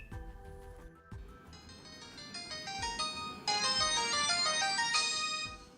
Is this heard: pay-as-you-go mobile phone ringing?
yes